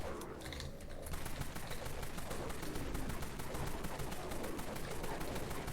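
Gunfire in a shooter video game during looting, rapid repeated shots in steady bursts after a brief quieter start, loud and continuous across several seconds.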